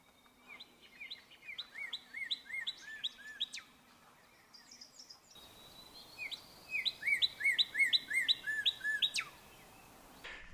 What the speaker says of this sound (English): It's pretty funny how the cardinal's song to me sounds like he's saying, birdie, birdie